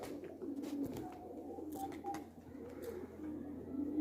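Pigeons coo softly nearby, a series of low, throaty, repeated calls over quiet background noise, with no talking.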